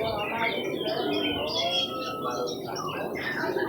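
Caged birds at a market twitter and chirp densely in overlapping high calls, with a busy crowd murmur beneath, continuous and fairly close.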